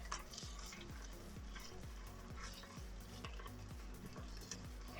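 Garlic and ginger frying over medium heat in a pan for an okra dish, a soft continuous sizzle with faint crackle and a low repeating hum underneath, steady and close with no talking.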